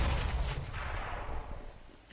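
Gunfire in Counter-Strike: Global Offensive during a competitive match, a quick burst of shots up front fading into a decaying echo, fairly faint.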